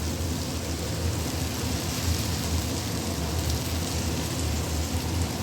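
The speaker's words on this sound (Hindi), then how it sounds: "इसमें ना शोर हो रहा है, ये चिमनी चल रही है ना, इसकी आवाज़ बहुत तेज़ आ रही है वीडियो में" A kitchen chimney exhaust hood runs loudly over a cooking pan, a steady broadband roar with low rumble that stays constant throughout, close and with no voices.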